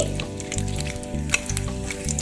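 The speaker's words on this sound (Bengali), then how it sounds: "দিয়ে দিচ্ছি এই তেলের মধ্যে, একটু ভাজা ভাজা করে নেব।" Cinnamon, cardamom, black pepper and four cloves frying in oil over medium flame, a close, steady sizzle with a few sharp pops and light stirring scrapes.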